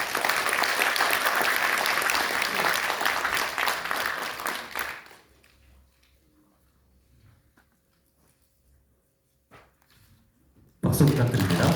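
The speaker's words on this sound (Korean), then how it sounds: "큰 박수로 여러분들 맞이하겠습니다." An audience applauds loudly for a former co-chair of a national professors' association at a Korean political party launch, the dense clapping lasting about five seconds before fading into near silence; a brief burst of sound returns at the end.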